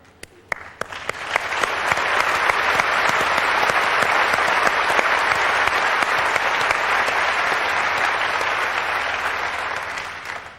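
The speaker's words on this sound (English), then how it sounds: "So I'd like to applaud everybody who helped to get this product out the door." Sustained audience applause at the Windows 95 launch keynote, a large crowd clapping loudly and steadily for about ten seconds before slowly tapering off, with no voices over it.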